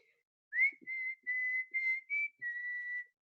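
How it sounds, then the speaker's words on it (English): A person whistles a short tune of several clear sustained notes with brief gaps between them, close and alone, with no talking. "That's the sound of someone whistling."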